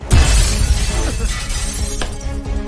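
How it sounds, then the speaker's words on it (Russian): Glass smashed during a bank robbery scenario: a loud, close crash up front, then tinkling shards falling, with a second sharp crack about two seconds in. "просто разбейте стекло"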